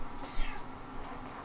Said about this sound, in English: my cat wants to get out